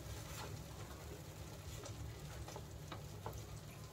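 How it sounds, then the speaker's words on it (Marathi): Masala, including Malvani masala, sizzling and frying in a pan while being stirred and sautéed for a methi matar malai paneer dish, a steady close hiss with occasional scraping ticks. "थोडीला परतून घेऊया छान."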